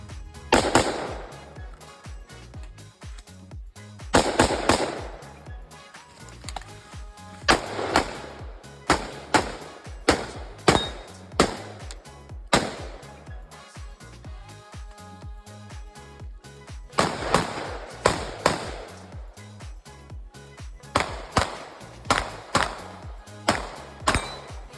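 Airsoft gun shooting outdoors, sharp snapping shots in quick bursts and single cracks repeating throughout, fairly close and loud with short pauses between strings.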